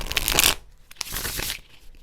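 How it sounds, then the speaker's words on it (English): A deck of tarot cards is shuffled by hand at close range: a quick riffling burst, then a couple of softer flicks and slides. "do a little shuffle."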